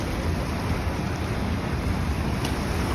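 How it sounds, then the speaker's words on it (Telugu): A boat ride on open water gives a steady, close rumble of churning water and hull noise with wind buffeting the microphone, constant and unbroken, with no talk. "boat riding"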